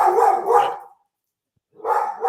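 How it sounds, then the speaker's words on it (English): Pet dogs barking indoors in the background of a talk show, a few loud barks in two bursts separated by a short quiet gap, no talk over them. "my dogs are barking"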